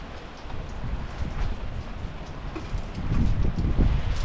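A rainstorm pours down outdoors, dense continuous hiss of rain spattering on surfaces with gusty wind noise, loud and close, swelling a bit heavier toward the end.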